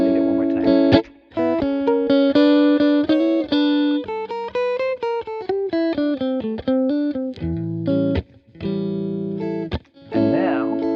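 Electric guitar with effects playing a single-chord vamp, strummed chords giving way to a fast melodic run of intervals and passing tones before returning to rhythmic strumming, loud and upfront with no talking.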